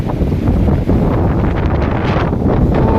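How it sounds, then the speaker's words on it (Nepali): Strong windstorm wind roars and buffets against the microphone in a dense, continuous rush, with no voices heard. "हेर यो हावा"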